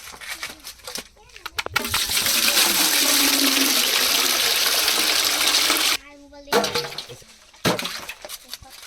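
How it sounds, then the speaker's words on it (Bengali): Water poured in a steady, loud gushing stream to wash green bananas, lasting several seconds before stopping, with brief splashes and handling noises around it. "আমি একটু কলাটা ভালো করে ধুয়ে নিই।"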